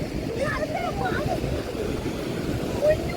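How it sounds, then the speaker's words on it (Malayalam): Strong sea waves at Veli beach, a continuous rushing surf roar close by that stays steady and fairly loud throughout, with faint background voices. "ഫുള്ള് ഭയങ്കര തിര കേട്ടോ"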